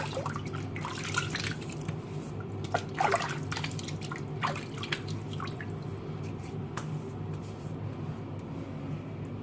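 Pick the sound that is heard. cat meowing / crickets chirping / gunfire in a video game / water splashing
water splashing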